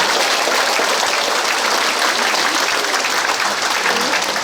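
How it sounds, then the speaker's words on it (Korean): A large crowd in a municipal arts hall applauds loudly during a political lecture, a thick, sustained roar of clapping that stays at full strength throughout. "여러분들 큰 박수 보내주셔야 됩니다"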